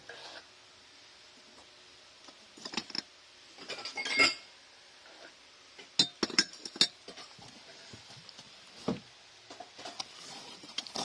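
German-made glass crockery dishes clink and clatter in scattered bursts, with sharp close taps spread over several seconds and quiet gaps between, no speech.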